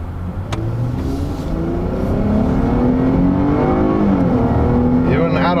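A 2018 Dodge Charger SXT with a V6 accelerates hard in automatic, its engine note climbing steadily toward redline through the gears, loud and close, with a voice talking over it briefly.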